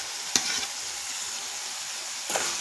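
Chopped tomatoes go into a pan of softened, sizzling onions for chana dal masala curry, with a steady sizzle and two sharp clinks of a utensil against the pan.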